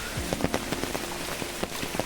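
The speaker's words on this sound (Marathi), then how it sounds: "पाऊस लागतो" Steady rain pattering densely on a surface nearby, with scattered louder drops striking throughout.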